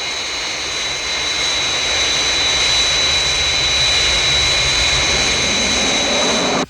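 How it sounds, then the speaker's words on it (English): A Fireflash jet airliner on final approach, its engines producing a loud, steady roar that holds at constant strength throughout before cutting off abruptly at the end. "Aircraft approaching glide path 5 miles to threshold."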